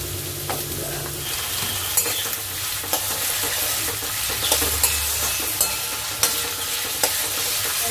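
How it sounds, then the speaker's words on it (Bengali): Potato pieces frying for vegetable chops, a loud continuous sizzle close by, with repeated spatula scrapes and taps against the pan at an uneven rhythm. "আমি আলুটা ভেজে নিচ্ছি আগে।"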